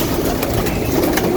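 Black pigeons coo close by, soft low throaty coos repeating over a dense background hum.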